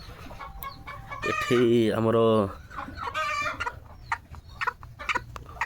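Desi chickens cluck on a farm, a loud burst of clucking with a rooster-like call, then scattered softer clucks while a voice speaks briefly.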